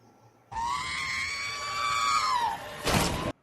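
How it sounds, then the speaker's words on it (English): The classic Wilhelm scream sound effect, a single loud, drawn-out falling male shriek lasting about two seconds, ending with a short burst of crash-like noise. "that's the Wilhelm scream"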